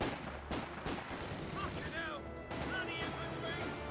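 A Maxim machine gun fires in Company of Heroes 2, with rattling bursts and sharp reports mixed among other battle noise, fairly close and sustained over the whole stretch.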